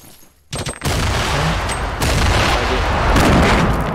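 Grenades blow up in a battle royale video game. After a brief quiet start, loud broadband blasts hit and merge into a dense, sustained roar of explosions and rumble that fills the rest of the stretch.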